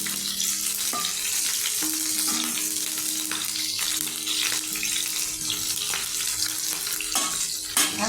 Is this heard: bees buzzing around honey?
no